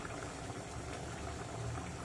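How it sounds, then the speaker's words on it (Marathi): Fish head curry with raw mango and coconut milk bubbles in a pot, a short, faint, steady simmering burble heard close up without voices. "झाकण काढून बघूया खूप छान उकळी आलेली आहे"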